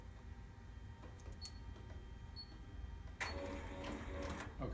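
Ballcap embroidery machine needle running, a steady mechanical stitching chatter that starts abruptly partway through and continues loud and close after a quieter stretch of faint handling noise.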